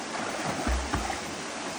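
Water from a waterfall rushes in a steady broadband wash throughout, with a soft thump or two of nearby movement and no talking.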